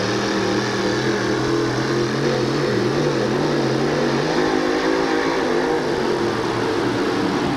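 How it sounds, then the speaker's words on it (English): Monster truck with two 1,500 horsepower engines roaring at full throttle on a stadium pull track at a 1987 USHRA event in Oakland, a loud, steady, continuous engine drone rising slightly in pitch with no breaks. "he nailed the throttle. The truck came to life, and it just like a rocket flew out the other end."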